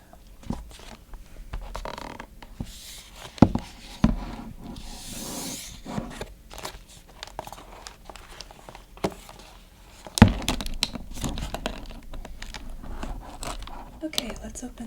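A snowflake craft kit's packaging is opened up close, with crinkly rustling and tearing, bursts of scraping and a few sharp clicks and snaps, soft and intermittent. A quiet voice speaks briefly at points.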